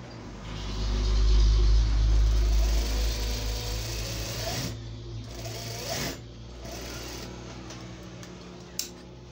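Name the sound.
sewing machine stitching a button tack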